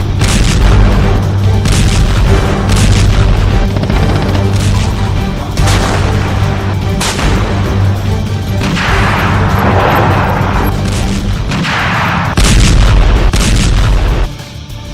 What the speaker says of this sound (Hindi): रूसी सेना ने यूक्रेन के बम और बारूद से भरे गोदामों को धमाके के साथ उड़ा दिया है।